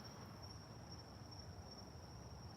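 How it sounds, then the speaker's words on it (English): Crickets chirp outside in a garden as a steady, high-pitched trill that never stops, faint and distant beneath a low background hum. "Can you hear the crickets?"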